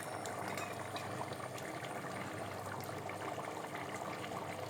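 Water bubbles at a rolling boil in a pot while masala is prepared for Thalassery dum biryani, a soft, steady, close burble with no talking.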